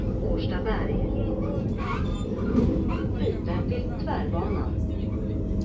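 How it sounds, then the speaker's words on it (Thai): Steady low rumble of a moving passenger train in Sweden, heard from inside the carriage, with continuous rolling noise and faint rattles throughout while people talk over it. "ตอนนี้เราก็นั่งรถไฟเดินทางกลับบ้านนะจ๊ะ"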